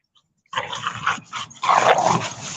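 Dogs wrestle close by, a young bully-type female among them, with continuous rough growls, grumbles and snarls that grow louder after a brief pause.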